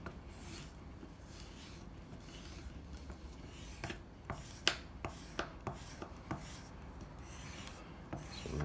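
A hard white jeweler's rouge block rubbed against the flesh side of a leather sharpening strop, giving a quiet, steady scraping with a few sharper scuffs in the middle of the strokes.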